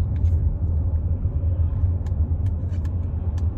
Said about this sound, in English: oh my God, there's traffic.